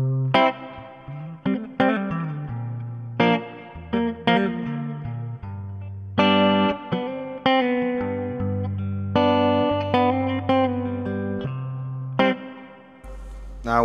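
Fender Player II electric guitar played fingerstyle on the neck pickup, clean tone with light reverb: a run of plucked notes and chords, each ringing out and fading before the next, alone and close.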